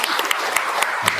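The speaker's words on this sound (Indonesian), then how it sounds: "Kita tepuk tangan buat mereka." A congregation at a Batak inculturation Mass applauds the choir, loud close clapping with a few sharp individual claps standing out in a continuous patter.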